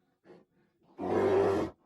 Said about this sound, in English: Suddenly, from behind him, he heard the beastly roar that had awoken him.